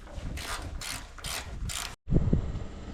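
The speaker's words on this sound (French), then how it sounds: "On commence à ouvrir les boulons ici" A size 19 wrench ratchets on bolts of a machine hood, several quick metallic clicking bursts in rhythm, then a brief pause and a heavier clunk up close.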